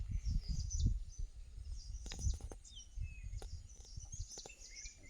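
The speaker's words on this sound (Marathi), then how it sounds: "चिमण्यांची चिवचिव" Sparrows chirping in brief high twitters over a low rumbling background of traffic or wind, with faint background noise.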